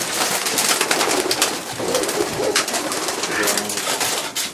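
Soft, throaty cooing of a pigeon sits under a rustling, noisy background, the low warbling calls repeating through the few seconds.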